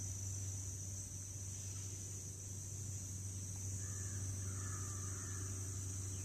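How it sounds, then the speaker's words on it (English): A few distant crow caws ring out over a steady outdoor hum, faint and spaced apart toward the end. "There's some crows right there."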